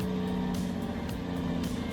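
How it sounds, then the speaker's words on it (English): Off-road logging truck engine droning steadily with a low rumble as its massive tires spin in slick, sucking mud, loud and continuous. "Those massive tires, each one costing a pretty penny, are spinning, digging deep, battling the slick, sucking earth that grips them relentlessly."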